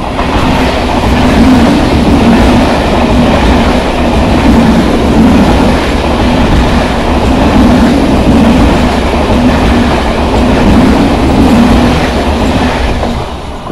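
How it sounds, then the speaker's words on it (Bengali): A passing train, number 31511, an EMU on the line near Ranaghat Junction, rolls by with a steady loud rumble and rhythmic clickety-clack of wheels throughout, close to the listener with no talk. "এবার যে ট্রেনটি দেখবেন সেটি হলো 31511"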